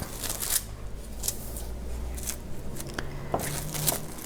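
Plastic wrap pulled from a roll and torn while wrapping frozen eggs for storage, heard as repeated crinkly rustles and brief tearing bursts with no talk.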